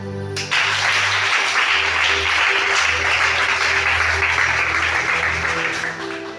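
A church congregation applauds during a Sunday worship service in Libreville, Gabon, with dense, sustained clapping at steady loudness for several seconds and low musical tones underneath.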